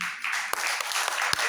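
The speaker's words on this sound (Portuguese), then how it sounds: "Agora aplauda o nome do Senhor pela tua vida." Congregation applauding during a church service, a dense wash of many hands clapping with a few sharper individual claps standing out, continuous and moderately loud.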